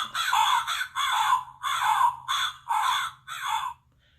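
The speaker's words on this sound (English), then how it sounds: "Chet is carried away by a group of hungry crows" A group of crows caws in six loud, harsh bursts of about half a second each, close by and evenly spaced, with a faint low hum underneath and no voices.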